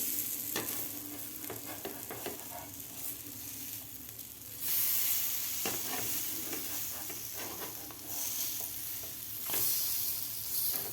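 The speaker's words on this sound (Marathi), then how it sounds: "दोन्ही साईडकडून आपल्याला व्यवस्थित हे ब्रेड भाजून घ्यायचे आहेत" Bread chilla fries in a pan for a quick breakfast, giving a steady sizzle with occasional stirring scrapes that swell louder midway and again near the end, close by with no talk.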